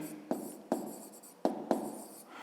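A pen writing out an answer by hand on paper: close, quiet scratching strokes broken by several sharp taps as the pen touches down, with no voice.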